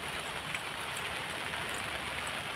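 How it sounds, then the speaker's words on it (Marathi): Steady rain falls outside near a school building under construction, a dense, even hiss of drops on surfaces with no clear pauses, close and continuous throughout. "पाऊस चालू आहे बघा"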